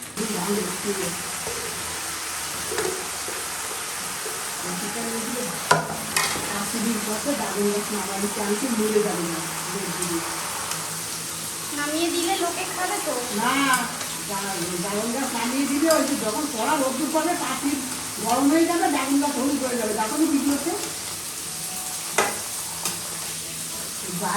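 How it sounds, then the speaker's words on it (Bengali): Fish fries in a pan in a home kitchen, giving off a steady close sizzle and hiss. Someone talks over it almost the whole time. "আর ওদিকে মাছ ভাজা হচ্ছে"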